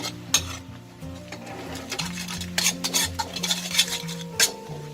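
A utensil stirs and scrapes thick sweet-sour tamarind sauce in a pan, with uneven metallic clinks and soft scraping over a faint sizzle, close by and without speech.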